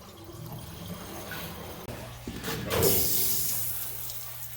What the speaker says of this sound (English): Let's turn the water back on.